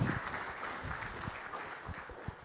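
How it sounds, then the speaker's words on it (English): Audience applause at a conference panel on digitalisation and youth engagement in SADC electoral processes; a brief, fairly faint patter of clapping that fades over a couple of seconds with no one speaking. "Can we give them a round of applause"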